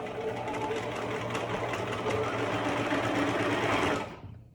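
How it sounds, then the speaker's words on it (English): A sewing machine runs steadily at a fast, even whir and chatter, close up, then winds down and stops near the end. "a guy named John Fisher invented the sewing machine"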